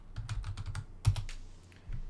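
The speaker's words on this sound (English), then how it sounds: "Just typing that in there" Rapid typing on a computer keyboard while a new property entry goes into a spreadsheet: close, crisp clicks in quick uneven bursts, a louder keystroke midway, then a short pause before more keys.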